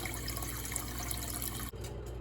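Water from a filtered tap streams steadily into a small container during road trip food prep, a continuous hiss that cuts off briefly near the end before resuming.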